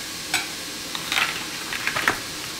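Vegetables sizzle in olive oil in a pot, a steady soft hiss with a few brief stirring scrapes and clicks, close by and moderately quiet, no voices.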